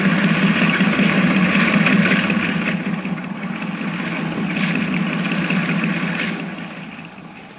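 A steady boat engine drones and idles with a low, rumbling hum that swells slightly and fades, running continuously without any voices; the engine needs attention.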